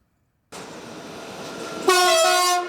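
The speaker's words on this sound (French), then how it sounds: "Le train de 11h54 n'est pas en retard." A regional TER passenger train rolls past in a valley on the SNCF network, a steady loud rumble building, then a sharp, sustained horn-like blast near the end, with no talk.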